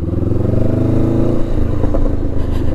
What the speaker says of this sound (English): I absolutely am giddy at the noise when I change gear. The popping and farting.